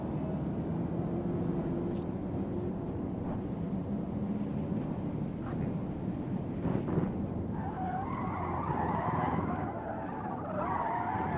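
Tires skid and squeal in the Dirt 2.0 racing game as a rally car slides after too much e-brake, a long loud screech over steady engine roar with no talk.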